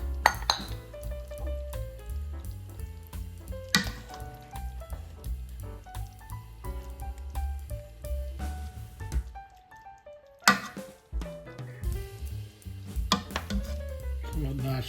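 A spoon scoops Irish beef and Guinness stew with potatoes and carrots from a pot, giving clinks and scrapes of metal on cookware and soft thick squelches, close and clear, with brief quiet pauses between.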